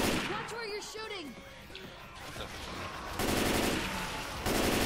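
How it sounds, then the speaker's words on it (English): Gunfire in the video game Left 4 Dead 2, with rapid bursts of automatic shots growing louder toward the end while voices shout over the chaos. "Watch where you're shooting!"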